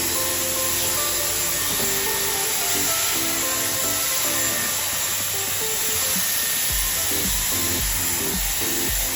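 A Dyson Airwrap hair styler runs steadily, a loud, constant airy whoosh with a high whine, while a low rhythmic tapping and fumbling sounds underneath as hair is handled.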